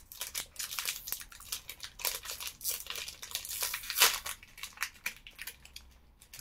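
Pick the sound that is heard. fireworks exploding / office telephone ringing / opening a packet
opening a packet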